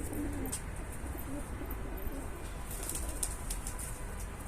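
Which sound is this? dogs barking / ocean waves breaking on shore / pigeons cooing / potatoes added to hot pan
pigeons cooing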